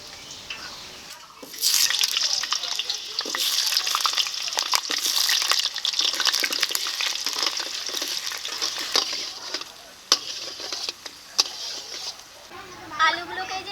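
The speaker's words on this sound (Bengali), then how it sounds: "এই তেলে আলুগুলোকে একদম লাল লাল কড়া কড়া করে ভেজে নেবো" Potatoes frying in mustard oil in a kadai for a duck curry, with a dense, steady crackling sizzle that starts after a brief quiet moment and continues with scattered sharper pops.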